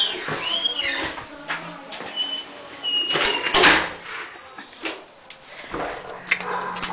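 An animal shelter door opens for a dog walk, with a few scraping slides, rattles and clunks scattered over several seconds, fairly close, and brief voices in between.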